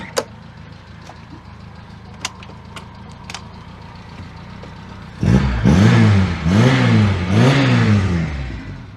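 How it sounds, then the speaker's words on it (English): A classic car's exhaust note rings out close and loud as the engine is revved in three rising and falling blips, after several seconds of quiet with a few faint clicks. "What a great little exhaust note."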